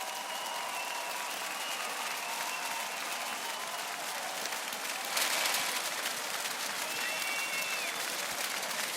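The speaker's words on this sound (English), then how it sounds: "The applause and the reaction might seem a little polite compared to American crowds" A German boxing crowd applauds steadily, a broad wash of clapping that swells louder about halfway through, with faint whistles rising above it.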